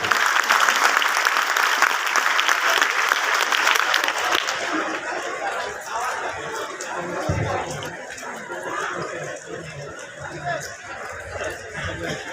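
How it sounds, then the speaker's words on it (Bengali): Loud applause from an audience at a political gathering as a speaker is called to the stage, a dense clapping that fades after about four seconds into crowd chatter, scattered claps and murmuring voices. "তার জন্য জোরে একটা করতালি।"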